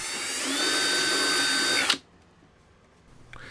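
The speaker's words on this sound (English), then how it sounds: "Say hello to my little drill." An electric drill whines loudly and steadily for about two seconds, used on an electric pylon racer model airplane, then stops abruptly, leaving near silence.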